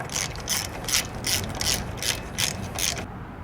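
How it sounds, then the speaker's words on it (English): A ratchet tightens bolts on a Caterpillar TC30 forklift during ram repair, giving seven or eight evenly spaced, crisp clicking bursts at close range, then stopping abruptly. "I'm gonna lube these lips up and get these bolted down."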